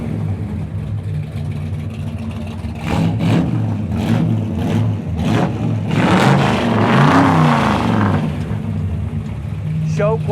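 A 1979 Pontiac Trans Am with a 455 V8, aluminum heads and 3-inch dual exhaust rumbles close by, then blips through several sharp revs and a longer rising surge before settling back.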